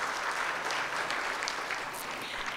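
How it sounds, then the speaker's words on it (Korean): An audience at a lecture event applauds with steady, dense clapping that fills the whole stretch at an even, sustained level. "큰 박수 보내주시기 부탁드립니다"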